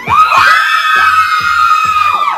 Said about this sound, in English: Now they're screaming for a good reason.